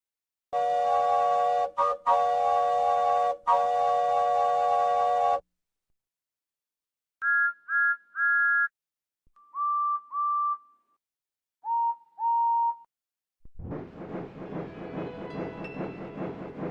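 Toy train engines whistling goodbye: a long steady multi-tone whistle blast, then several short, lighter whistle toots in separate groups, followed by a rumbling chug at the end.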